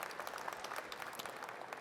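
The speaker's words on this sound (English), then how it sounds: "I think he deserves a round of applause for that." A room full of people at a ministers' summit claps steadily, dense and even throughout, a warm burst of applause at moderate distance.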